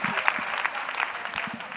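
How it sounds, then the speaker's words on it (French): A church congregation at a French-language prayer and intercession gathering claps together, a brief burst of brisk, overlapping hand claps at steady loudness. "Clap offering next."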